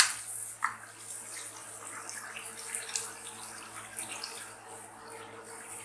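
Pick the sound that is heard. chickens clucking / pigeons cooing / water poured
water poured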